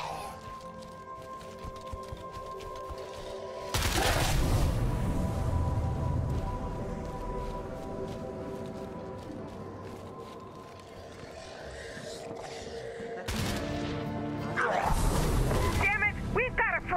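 Grenade launchers fire in the video game State of Decay 2, several sharp booming blasts with rumbling tails breaking through a quieter game backdrop.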